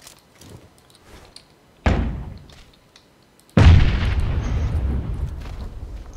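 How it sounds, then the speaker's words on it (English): Grenades exploding in PUBG: two heavy blasts, the first a sharp boom that fades, the second a louder, closer explosion followed by a long rumbling tail, with quieter thuds between. "He's throwing grenades."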